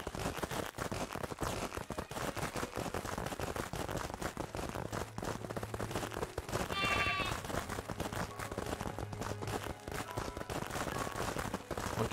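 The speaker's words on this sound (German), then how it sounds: "Mehr als genug Schafe haben wir ja." Sheep bleat in the video game Craftopia, one clear bleat rising over a dense, crackling game soundscape, with a low steady hum beneath.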